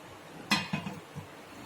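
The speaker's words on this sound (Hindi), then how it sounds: "मैंने एक बड़ा बर्तन रखा है, उसके अंदर मैंने रिंग रख दिया है" A large metal cooking pot set down with a ring placed inside it, giving a clear clank followed by two or three lighter metallic knocks close by in a quiet kitchen, with no talking.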